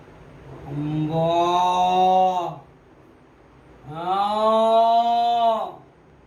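A human voice imitates a cow mooing with two long, loud, drawn-out lowing calls separated by a short pause, sounding close and resonant in a quiet room.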